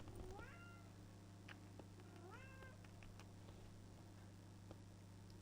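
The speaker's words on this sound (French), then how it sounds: "Il est à qui ce petit chat?" A small kitten meows twice, rising and falling cries spaced a few seconds apart, close and clear over a steady electrical hum with faint ticks in the room.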